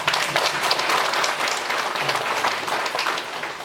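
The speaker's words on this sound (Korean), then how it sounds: "오, 박수!" A church congregation applauds during a Korean sermon, a dense, steady wash of many hands clapping that holds at an even level for a few seconds with no voice on top.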